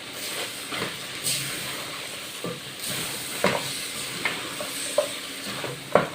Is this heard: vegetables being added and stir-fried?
yes